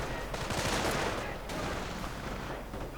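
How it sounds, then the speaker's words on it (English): In a World War II real-time strategy game, a German Panzerschreck rocket launcher fires at a rifleman amid dense, continuous battle noise of gunfire and explosions, loud and unbroken throughout. "a Panzerschreck actually gets a rifleman"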